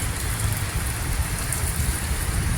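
Heavy monsoon downpour drumming steadily outdoors on a street, a dense, loud, unbroken hiss of rain with low rumbling underneath and no voices.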